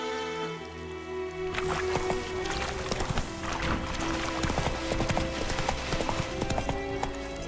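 Roach, a horse in The Witcher 3, gallops with steady, rapid hoofbeats that sound close and loud. A music bed runs underneath and there is no talking.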